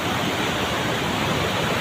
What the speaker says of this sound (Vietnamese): Đây có con thác rất là đẹp.